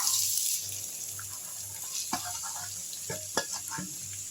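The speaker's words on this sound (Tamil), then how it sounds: "இப்போது இந்த வெங்காயத்தையும் பச்சை மிளகாவையும் இந்த எண்ணெயில் போட்டுடலாம்" Onion and green chilli fry in hot oil for an old-style egg stir-fry, a steady hiss with a few sharp stirring clicks and scrapes close by.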